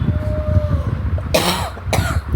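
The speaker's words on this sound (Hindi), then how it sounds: "यहाँ हो गई है मुझे काफ़ी ज़्यादा खांसी" Two harsh coughs, close and loud, break through a low background rumble, the second following about half a second after the first.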